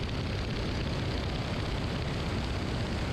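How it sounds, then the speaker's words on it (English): Nanchang CJ6 warbird airplane in flight through a no-flaps stall, a steady, loud, broadband engine and wind roar that fills the cabin without pause. "Now the CJ6 Nanchang stall with no flaps."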